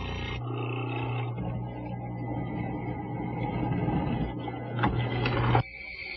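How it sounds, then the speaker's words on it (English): A mortising machine's bit bores into a wooden table leg for a French side table, a steady loud motor whine with a low hum, building as the cut deepens and then dropping off sharply near the end. "Now let's dig it out. The bit will remove most of the material."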